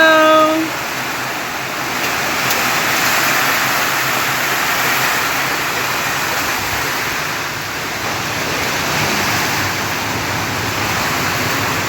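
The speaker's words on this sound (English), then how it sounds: "It's pouring rain." Heavy pouring rain in Palau, a steady broadband roar like rushing water that holds evenly for about twelve seconds, close and dense with no other clear sounds.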